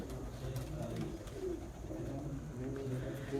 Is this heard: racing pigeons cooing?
yes